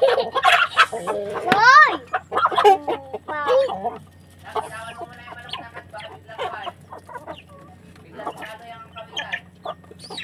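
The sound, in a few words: chickens clucking while being fed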